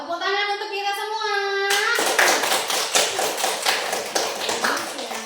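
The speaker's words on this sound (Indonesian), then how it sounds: "tepuk tangan untuk kita semua" Group of people applauding together in a classroom or community session, dense rapid hand clapping that starts abruptly after a sung or spoken vocal tone and continues loudly and steadily for several seconds.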